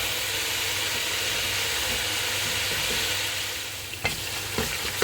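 Yogurt masala with fried taro pieces sizzling and frying in a pot, a steady close hiss throughout, with a few light scraping stirs near the end and no talk.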